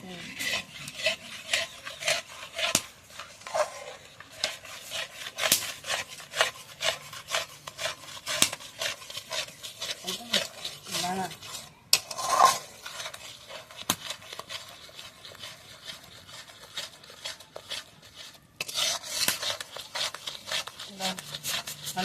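Besan laddu mixture with ghee stirred in a pan, a continuous scraping, rasping rub of a spoon against the pan's surface, fairly close and persistent, with a few louder knocks.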